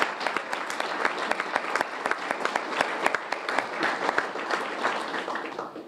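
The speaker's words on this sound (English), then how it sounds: "How about a big round of applause for all of them?" An audience claps for children receiving Do the Right Thing award certificates from police chiefs, a sustained round of dense, rhythmic applause that tapers off at the end.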